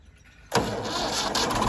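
A tractor engine rumbles into life at a farm settlement, with low idle noise first and then a sudden loud, steady running engine close by.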